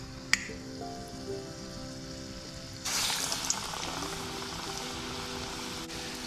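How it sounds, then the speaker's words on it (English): Dahi vada batter dropped into hot oil on medium heat sets off a sudden, steady hiss and sizzle of frying. It follows a quiet stretch with a small click and stays busy and close until the end. "your mix, put it in the oil"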